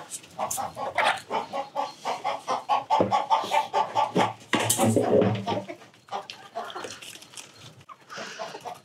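Chickens cluck busily up close, a dense run of short clucks and squawks with a few louder calls breaking through.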